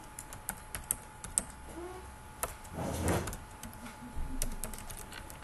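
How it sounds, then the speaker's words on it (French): Quick, uneven keystrokes on a computer keyboard as a short sentence is typed, close and clear, with a brief whooshing rustle partway through and no talking. "je vais écrire juste une phrase"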